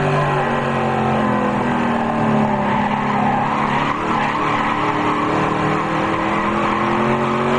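A race car on the front stretch of a racetrack screams past, its engine wound up high in a loud, sustained, droning whine that stays close and continuous, with a slight tire-squeal edge.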